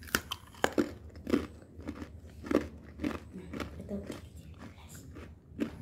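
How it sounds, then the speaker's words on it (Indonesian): Sharp, brittle crunching and cracking snaps repeat in an irregular rhythm, close up, as crisp sesame brittle is cut through. "Kita coba potong. Garing banget ya teman-teman, nyaring banget bunyinya."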